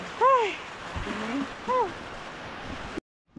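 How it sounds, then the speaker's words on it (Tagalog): Heavy rain pours down as a steady, dense hiss, while a voice rises over it in a couple of short, sing-song calls. "Kusog na ang ulan, no?"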